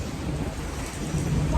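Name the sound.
heavy rain with thunder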